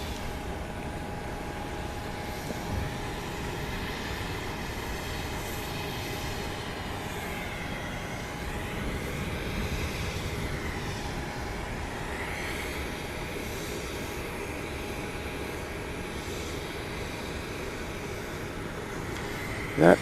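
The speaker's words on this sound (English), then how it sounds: "what you just saw there is Asiana Flight 8924, an Airbus A321, which just came in" An Asiana Airbus A321 arriving at Gimpo Airport in Seoul, heard from an observation deck as a steady, distant jet engine roar with a slowly shifting whine, continuous for about twenty seconds.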